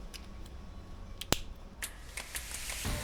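A connector on a Miata soft top cover clicks into place with one sharp, close snap, followed by a few softer clicks and handling rustles in a quiet room.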